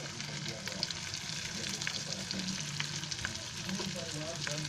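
Stuffed brinjals fry in oil in a pan, a soft, steady sizzle with small crackles and pops throughout, fairly quiet and close, with no talking.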